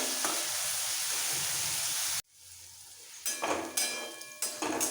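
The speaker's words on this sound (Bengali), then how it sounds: "যতক্ষণ পর্যন্ত গাজর বিনস ভালোভাবে সেদ্ধ না হচ্ছে ভালো করে ভাজতে হবে" Carrots and beans sizzle in a pan for a fried rice pulao, with a steady fry that cuts out briefly, then returns with bursts of stirring and scraping.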